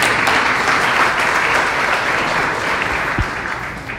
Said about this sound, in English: Give Marcus a round of applause.